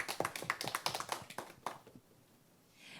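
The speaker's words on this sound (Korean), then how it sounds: "김재혁 패널님께 다시 한번 큰 박수 부탁드리겠습니다" A small audience at a youth political festival panel applauds a panelist, giving a quick burst of close, crisp claps that thins out and fades away within two seconds.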